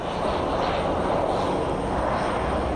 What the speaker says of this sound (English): PC-12 taxiing on runway 28 right